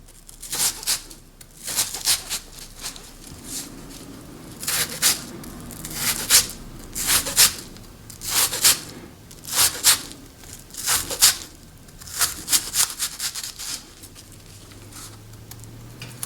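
A knife slices garlic into very thin pieces on a cutting board, producing a series of crisp, close chopping taps in quick irregular bursts with short pauses between them.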